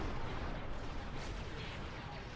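Starship ion cannons firing in a Star Wars space battle, a steady, dense barrage of rumbling blasts and crackling bursts with no clear gaps, loud and continuous throughout.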